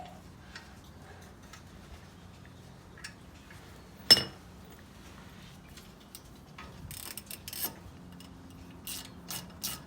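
A ratchet tightens a brake caliper bolt on a 2011 Buick Enclave during a brake job, giving one sharp metallic clack and then a short run of faint, close clicks over a quiet background.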